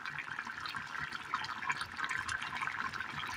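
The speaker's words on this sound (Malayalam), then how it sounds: "ഈ സമയം നമുക്കിതിലേക്ക് ഒരല്പം വാളംപുളി പിഴിഞ്ഞ വെള്ളം ഒഴിച്ച് കൊടുക്കാം." Tamarind water poured into a pot of boiling curry, a steady splashing, gurgling pour close by that runs for a few seconds with no talk.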